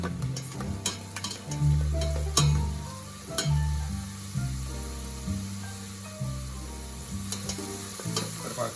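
Ingredients for a pumpkin risotto sizzle as they brown in a pan, a close, continuous frying crackle with stirring scrapes, partly under steady background music.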